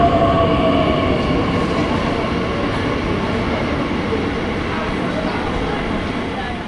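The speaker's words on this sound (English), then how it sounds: "now we can take a look at our train arriving at the station" An RE7 regional electric train rumbles loudly into Königs Wusterhausen station, a steady roar with rolling wheel noise that slowly eases as it slows.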